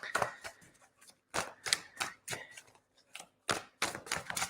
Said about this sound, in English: Just giving these a shuffle.